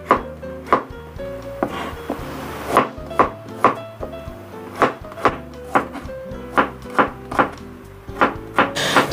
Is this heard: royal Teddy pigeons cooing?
no